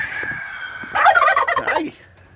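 A turkey lets out a short, loud burst of rapid gobbling, close by, after a brief moment of quieter bird calls.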